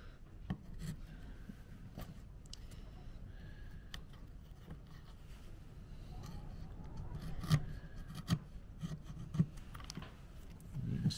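A chisel carving sycamore wood for a gypsy wagon, with quiet scraping and shaving strokes and several sharper cutting taps toward the end, faint and close up in a quiet room.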